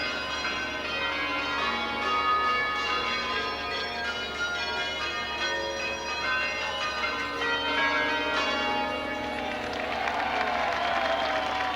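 Bells ring as part of a circus parade at the 1986 Great Circus Parade, a dense tuned melody mixed with crowd noise and applause, steady and fairly loud throughout.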